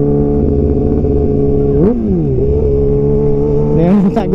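A Kawasaki ZX6R motorcycle engine idles loudly and steadily, then revs up sharply twice, once near the middle and again at the end, each blip rising and falling quickly close by.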